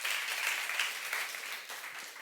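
A church youth congregation applauds after a sermon, a steady wash of many hands clapping that fills the room evenly and tapers slightly toward the end, with no voices rising above it.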